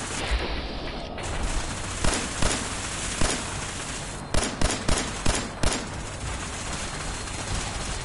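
Gunfire in Fallout 4: a run of sharp single shots roughly half a second to a second apart, then a quicker cluster of close, loud cracks, set over constant background battle noise.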